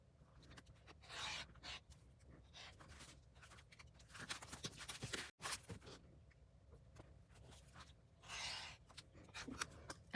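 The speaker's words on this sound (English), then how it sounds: "So I'm going to use these 2 for my long pieces and cut those out." Scissors cut out long fabric strips nearby, a faint run of repeated snipping and rubbing strokes with a short pause midway, and no speech.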